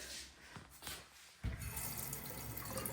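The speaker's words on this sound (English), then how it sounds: "nice flowing water faucet" A bathroom faucet in a renovated suite is turned on and runs in a steady, full hiss of flowing water after a few quieter knocks and splashes.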